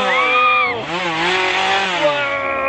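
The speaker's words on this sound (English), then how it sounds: "Oh, we have a chainsaw." Chainsaw revving at a haunted roadside train ride in Central Florida, a loud buzzing engine whine that rises and falls over nearly three seconds, with excited voices mixed in.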